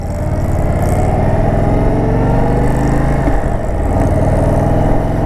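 An Indian Super Chief motorcycle's low-revving engine rumbles loudly and steadily during a ride, a deep throbbing drone with a slight dip midway.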